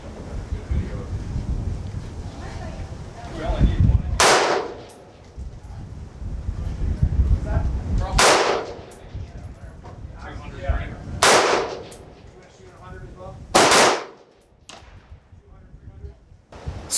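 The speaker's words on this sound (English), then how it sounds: "make all the accurate shots and just be ringing the steel on those gongs" A rifle fitted with a Primary Arms 1-6x Raptor scope fires about four sharp shots at steel gong targets, each a loud crack, with wind noise and some talk between the shots.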